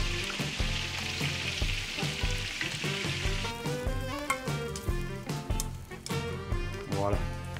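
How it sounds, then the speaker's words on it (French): Aubergines grilling in a pan with oil, salt and pepper, giving a steady sizzle that runs throughout, loud and close, mixed with music-like tonal sounds and a voice in the background. "on va commencer par faire griller les aubergines"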